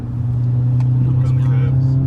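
A car on a lap of the Nürburgring GP circuit gives off a steady, loud in-cabin engine drone, heard under a person speaking throughout.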